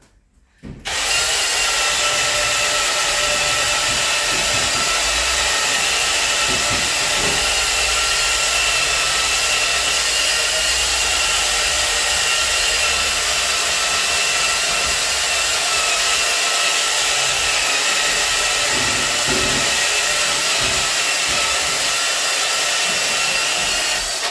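A power buffing pad polishes a glass shower door stained with soap and water spots, giving a loud, steady, continuous high whine that starts abruptly and runs unbroken, with faint rubbing underneath and no talk.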